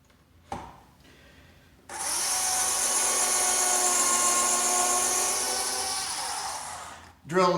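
Power drill bites into the wood of an arcade cabinet with a loud, sustained whirring drone lasting several seconds, preceded by a short knock and a brief mechanical burst, with faint talk around the start.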